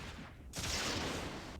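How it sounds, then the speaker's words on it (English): Explosions in the strategy game Myth II: Soulblighter, as iron trow blow up among the troops: a quiet rumble gives way to a sudden loud burst of crackling blast noise that carries on and fades slowly. "There's an explosion there."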